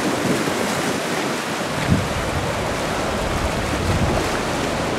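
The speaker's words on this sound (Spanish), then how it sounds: "Aquí podemos contemplar el ruido del mar únicamente." Sea waves break continuously on the rocky beach at Punta Cerritos, Mazatlán, a dense, steady roar of surf with a few swells and strong wind buffeting the microphone, no voices.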